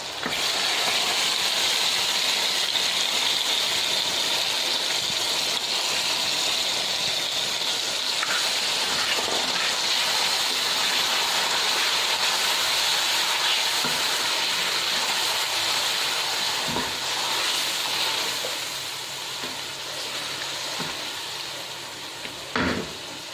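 Marinated yogurt chicken hits hot tomato masala in a pan and fries with a steady, loud sizzle. A few sharp clicks of a spoon against the pan come through as it is stirred, and the hiss eases slightly toward the end.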